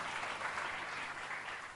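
A congregation applauds during an Indonesian prayer and fasting church service, steady sustained clapping filling a short stretch, fairly distant and even, no voices over it.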